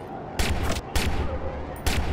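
Gunfire in the video game Watch Dogs: three loud bursts of rapid shots in quick succession, each a short volley with sharp repeated cracks, separated by brief lulls of rumbling game ambience.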